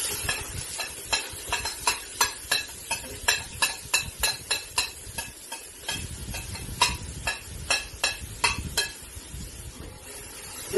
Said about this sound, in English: now I'm gonna fry my brown onion, garlic, spring onion